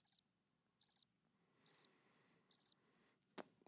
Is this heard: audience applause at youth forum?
no